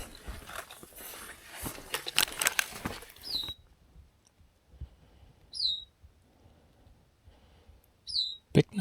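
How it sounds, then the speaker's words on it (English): Bicknell's thrush song in the Adirondack high peaks: brief high chirping phrases repeat a few times after a noisy stretch, faint and fairly distant over quiet mountain ambience. "Bicknell's thrush."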